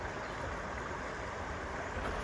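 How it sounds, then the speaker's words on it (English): A waterfall on Red Creek at Dolly Sods produces a continuous broadband rush of falling water, steady and fairly distant, with no voices. "Waterfall down there."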